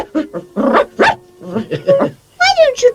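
A human voice imitates a poodle's barking with a run of short, yappy, voiced barks in quick bursts, rising to higher-pitched yips near the end, with talk around them.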